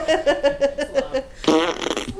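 A person vocally imitates a wet fart during a podcast, giving a string of rhythmic sputtering bursts followed by a longer, louder buzzing splutter, close and loud.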